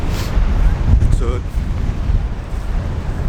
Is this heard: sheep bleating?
no